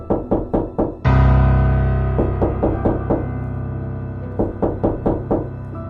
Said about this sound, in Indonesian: Sekitar pukul 1 dini hari, Pak Kurdi mendengar suara ketukan dari pintu rumahnya.